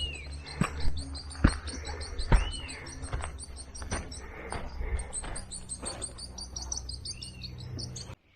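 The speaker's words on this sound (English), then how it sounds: "Do you hear that bird?" Bird in a steep forest trail setting near Villa La Angostura, Argentina, singing bright, high repeated chirps and trills throughout, over soft footsteps and rustling, clear and fairly close.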